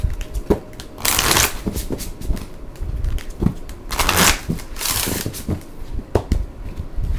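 A deck of Power of Surrender oracle cards by Judith Orloff being shuffled by hand, loud close riffling bursts and scattered card clicks repeating over about seven seconds, with no talk.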